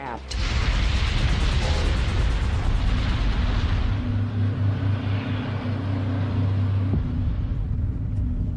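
A heavy, continuous roar of rumbling blasts fills the whole stretch, deep and loud, with a sharper crack near the start.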